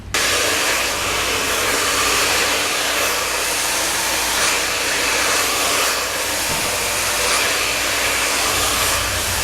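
Blow dryer running steadily while drying and smoothing hair around a brush in a salon, a loud constant whooshing roar with no break, no one speaking.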